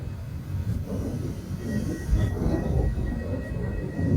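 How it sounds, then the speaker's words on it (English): Finnish VR sleeper train hauled by a Siemens Vectron locomotive, a steady low rumble of rolling wheels and carriages with faint squeals and clatter, fairly close and no voices. "If the locomotive looks familiar, it's one of the Siemens Vectron family."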